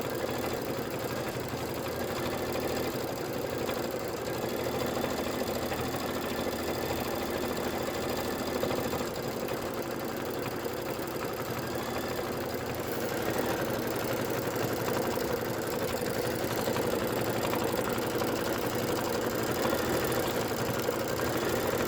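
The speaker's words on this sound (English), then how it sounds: "And this is 2 minutes of stitching." A Kimberbell embroidery machine stitches a Candy Cane Lane bench pillow street lamp design, a steady close mechanical hum and rapid needle chatter running without pause.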